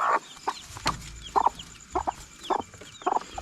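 Newly hatched chicks peep and cheep in short, close bursts repeating roughly every half second, with soft clucks between.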